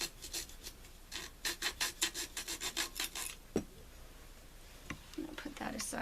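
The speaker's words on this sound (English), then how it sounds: "I'm going to use my serrated kitchen knife to score my dowel." A serrated kitchen knife scores a wooden dowel in a series of quick, close rasping strokes, fairly faint, pausing midway before a few more scrapes resume.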